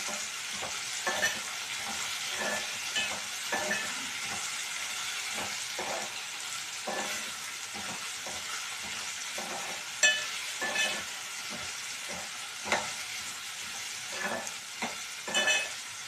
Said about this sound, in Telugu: ఇప్పుడు ఒక 5 మినిట్స్ ఆలుగడ్డ ఫ్రై అయింది కదా